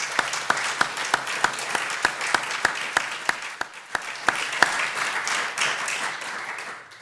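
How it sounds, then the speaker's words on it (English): An audience at a poetry festival panel applauds the speakers, a steady crowd of clapping with a few sharp, regularly spaced claps standing out near the microphone, then the applause softens toward the end. "So for Paul, Lucy and Jo, could we have a round of applause, please?"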